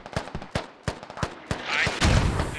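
Mortar fire in a military video game, a series of sharp booming impacts spaced irregularly, roughly eight to ten blasts, followed by a denser rumbling explosion near the end.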